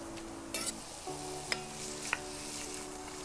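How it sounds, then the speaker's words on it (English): Steady sizzling of garlic frying in hot oil while making albondigas soup, with a few clinks of a utensil stirring the pan; no voices. "make sure it's hot enough that the oil is starting to sizzle up a little bit there"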